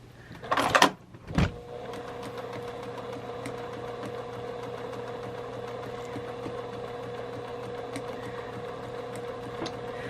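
Sewing machine stitching a fabric origami tote bag, a steady continuous motor hum running through most of the stretch after a couple of brief louder knocks at the start.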